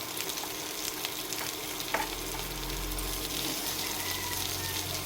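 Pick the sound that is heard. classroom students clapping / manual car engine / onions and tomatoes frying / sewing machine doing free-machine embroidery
onions and tomatoes frying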